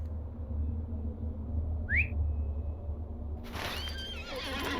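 A horse whinnies loudly in the video game Lord of the Rings Online over a steady low rumble, with a brief whistle-like tone just before it; no one speaks.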